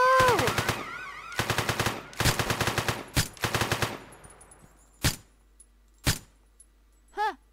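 Gunfire in a multiplayer jewellery-store and bank robbery video game comes as several loud rapid automatic bursts, then a few isolated single shots with short silences between them.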